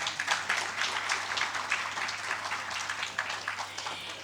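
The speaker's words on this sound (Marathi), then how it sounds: "मला तुमच्याकडनं टाळ्या अपेक्षित होत्या." An audience applauds at a celebration of fifty years of advocate M B Kulkarni's legal career. The clapping is soft and distant but steady, with a faint voice in the background.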